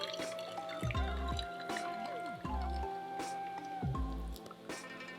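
Steeped shou puerh tea is poured during a fourth infusion, giving soft, repeated liquid trickles and drips with a few brief squishy splashes, close and fairly quiet, with no voices.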